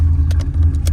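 A cammed 5.3 V8 fitted with a Carven R muffler idles close by, a deep, loud, continuous rumble with a choppy lope pulsing underneath, heard alone without any voices.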